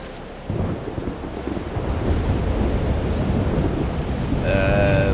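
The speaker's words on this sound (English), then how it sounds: "The storm's getting worse." Thunderstorm in the video game Life Is Strange: Double Exposure, a loud steady roar of heavy rain with rumbling thunder and gusting wind that builds and holds, with a tonal game sound rising near the end.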